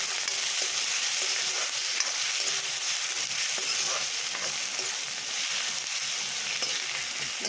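Garlic and ginger paste is stirred in a hot frying pan, a loud, dense, continuous sizzle filling the whole stretch, heard close with faint scraping and no speech.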